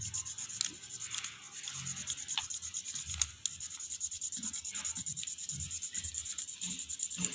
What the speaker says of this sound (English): you can place the coin behind the paper, hold it stiffly, and you can use the crayon also to get the